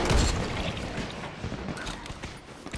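Gunfire from a firearm in the zombie survival game Dying Light, a loud burst of shots at the start followed by continued rapid crackling reports in a noisy game mix.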